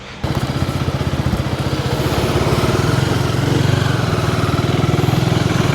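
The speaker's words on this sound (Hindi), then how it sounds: "तो आज ये KTM लेके मैं वहाँ पे जा रहा हूँ।" A KTM motorcycle engine runs steadily under way on a road in Gujarat, a loud, continuous throbbing drone with a gently rising level and no talking over it.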